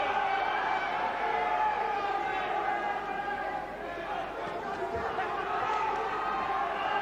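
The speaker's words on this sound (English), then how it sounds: "Listen to the crowd here." A boxing crowd at Shannons Gym during the final round of a WBF world super lightweight title fight makes a constant, dense roar of voices and cheering, with a commentator talking over it throughout.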